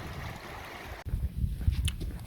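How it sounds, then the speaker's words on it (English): A waterfall just outside a car park at Blaen-y-Glyn in the Brecon Beacons, heard as a steady rushing wash of water that thickens into a louder, gusty roar halfway through, with no voices. "First waterfall we see is just outside the car park"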